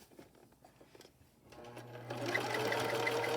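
A sewing machine stitches an 18-inch doll's nightgown with elastic, starting after a quiet moment of handling and then running in a steady, close, loud whir to the end.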